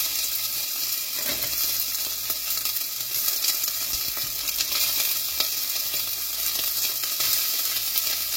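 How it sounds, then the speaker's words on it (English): Sausage meat, two sausage lengths' worth, frying in a pan with garlic, giving a steady close crackling sizzle with faint stirring scrapes throughout and no talk. "I'm just going to drop the sausage meat"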